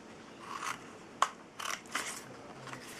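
Scissors snip small slits into cardstock while a folding box is made, giving several quiet, close, crisp cuts and faint paper rubbing spread over a few seconds.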